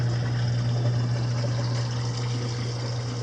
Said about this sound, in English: So this pump returns the water through this tube, returns the water to the main display tank where it comes out this nozzle